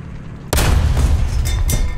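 A T-26E tank cannon fires in War Thunder ground battle: a single sharp, heavy boom close by, followed by a rumbling tail of echo and engine noise.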